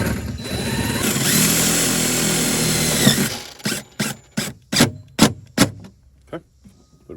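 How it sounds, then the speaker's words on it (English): A power drill whines steadily for about three seconds while driving a self-drilling stainless steel screw into a jon boat, then short ratcheting bursts follow as the screw seats, close and loud. "We're just going to go ahead and screw this into place."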